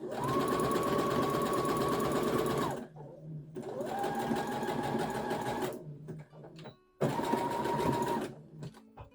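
A sewing machine stitching a sleeve flat into a stretch knit top runs in three steady whirring bursts of several seconds each, separated by short pauses. It is close and even in tone.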